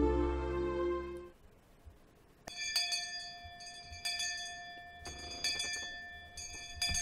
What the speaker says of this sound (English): I heard the ring of the bell declaring the end of lunch break.